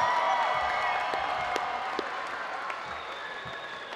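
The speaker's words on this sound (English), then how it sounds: "show your appreciation for them one last time with your applause of gratitude" Graduates at a graduation ceremony applaud their parents and families in a large hall, a sustained crowd clapping with faint cheers, gradually tapering over several seconds while a tonal hum lingers underneath.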